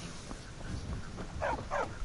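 A dog in Skyrim gives two short, close barks in quick succession near the end, over low game ambience.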